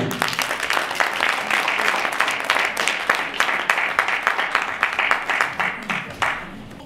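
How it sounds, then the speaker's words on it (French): An audience at a Black History Month conference gives a standing-ovation style round of applause, dense and continuous clapping with audible individual claps, fairly close and sustained, tapering slightly toward the end. "Ovation pour elle."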